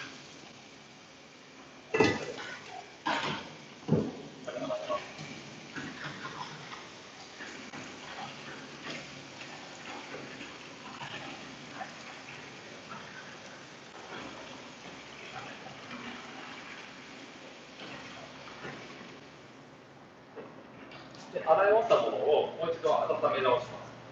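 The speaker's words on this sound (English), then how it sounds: "So noodles are cooked, and I'm washing it." Cooked ramen noodles are rinsed under a running tap, a steady faint stream of water with a few louder splashes and clatter, under ongoing talk.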